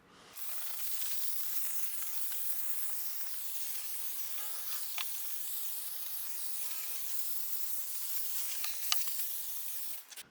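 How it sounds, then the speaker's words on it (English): A vapor steamer blasts a steady, close hiss of steam across a car's engine bay, running continuously for about ten seconds with a few brief sharper spurts near the end. "Now I'm going to take the vapor steamer to it again, to those areas that I just soaped up with the brush"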